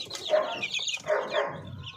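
Native chickens and chicks cluck and chirp close by in a short, busy burst of calls, with no talk over them.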